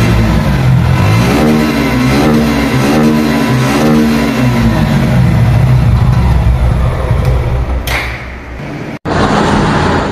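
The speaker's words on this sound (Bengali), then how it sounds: "এখন আমরা আপনাদেরকে বাইকটা স্টার্ট দিয়ে দেখাবো এর সাউন্ডটা কি রকম" A Suzuki Gixxer Fi ABS motorcycle engine starts and runs with a close, loud, steady idle, its pitch rising and wavering briefly before settling, followed by a short cut-out and resumption.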